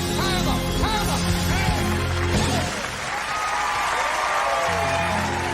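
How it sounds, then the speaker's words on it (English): A crowd cheers and applauds, loud dense clapping mixed with whoops and whistles, easing briefly midway and then swelling again into a sustained ovation. "Now the whole damn world is cheering."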